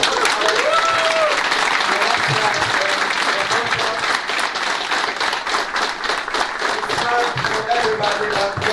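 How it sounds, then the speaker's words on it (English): Crowd applause and clapping at a drift event in Austria, dense and steady for the whole span, welcoming three Ukrainian drivers, with some voices mixed into the clapping. "I want to thank and make big applause for 3 Ukrainian drivers arrived today."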